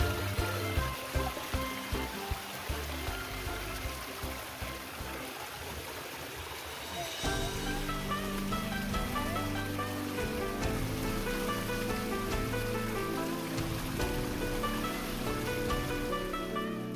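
Spring water flowing and splashing at Tubod sa Dakong Kahoy in Ibabao, Sogod, Cebu, a dense steady rush with pattering drops throughout, getting fuller partway through, with some faint speech mixed in.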